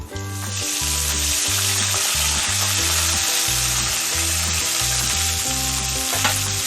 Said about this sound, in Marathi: जिरं दाणे दाणे छान खमंग भाजून झालेले आहे आता आपण कांद्याची पाट टाकूया